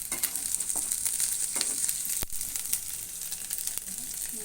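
Ginger garlic paste fries in hot oil in a pan for chicken curry, a loud continuous sizzle with faint stirring scrapes and one sharp tap of a utensil partway through.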